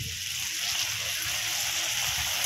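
Water pours into chilli chicken gravy cooking in a pan, a steady close splashing and bubbling wash that runs without a break and carries no speech.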